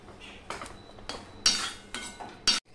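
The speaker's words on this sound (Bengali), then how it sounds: "কড়াই থেকে সম্পূর্ণ সবজিটা আমি এখানে দিয়ে দিয়েছি দেখো বন্ধুরা" A spoon scrapes cooked vegetables out of a wok into a poha and wheat-flour batter, making about five short, rough metallic scrapes and clinks in an uneven rhythm, close by.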